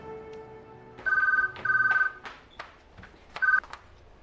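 A telephone rings in a domestic scene, sounding several electronic trill bursts that stand clear and loud against a quiet room. Brief knocks and small clicks fall between the rings, and no one speaks.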